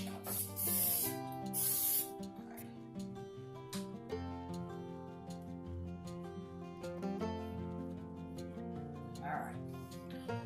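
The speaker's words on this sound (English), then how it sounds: "spray my pan again so they won't stick" Two short bursts of hissing aerosol cooking spray onto a pan over a sustained musical background, with a faint second hiss later.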